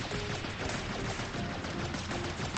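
Sustained, continuous rapid shooting in the video game Tower of Fantasy, a dense unbroken stream of shots at steady moderate loudness with no pauses.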